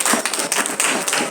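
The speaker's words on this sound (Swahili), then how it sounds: "Wapigieni makofi" Wedding guests in Kiambu break into a short burst of dense, moderately loud clapping, the claps rapid and overlapping from a nearby crowd.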